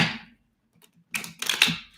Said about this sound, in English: 2 more shuffles because we're having an issue shuffling here.